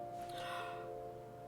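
A tabletop game master running Hunter: The Reckoning imitates heavy breathing with his voice, producing one close, breathy gasp that swells and fades over a faint steady hum.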